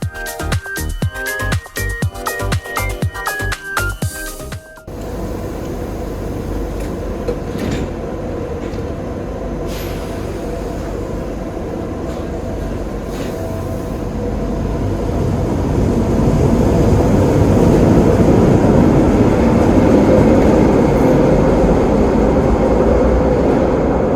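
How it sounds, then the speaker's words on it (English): A Tyne and Wear Metro train pulls away from Haymarket station, its low rumble and whine building steadily and growing louder toward the end after a brief burst of music. "let's take a look at our train leaving the station Haymarket"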